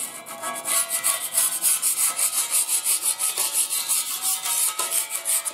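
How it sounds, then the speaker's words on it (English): Steady back-and-forth scraping of a painting multi-tool across a steel welding fixture table, clearing loose weld spatter, heard as a close, even rasping rhythm of about two strokes per second with no talk. "I just scrape the table. Go over the entire table."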